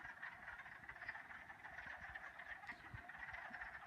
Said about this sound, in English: the wood frogs like to call during the day